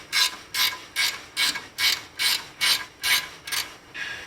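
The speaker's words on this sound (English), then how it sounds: "you're going to have to ratchet it all the way off." A ratchet clicks steadily while backing a self-locking nut off a BMW outer tie rod, about ten even, close strokes in a regular rhythm with no talking.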